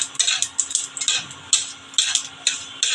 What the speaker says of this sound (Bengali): তেলটা দেখুন আমার গরম হয়েছে খুব বেশি কিন্তু আমি তেল দিইনি পাঁচফোড়ন দিয়ে দিচ্ছি